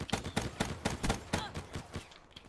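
Rapid automatic gunfire from a weapon in Call of Duty: Black Ops 3, a quick, steady run of sharp shots about four per second, fading out near the end.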